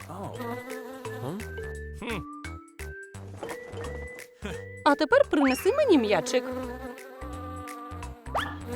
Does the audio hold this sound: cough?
no